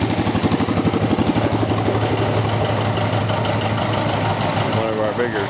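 A John Deere 730 and an Oliver 88 diesel tractor idle in high gear with a steady low, throbbing rumble and regular pulsing beats, close and loud throughout.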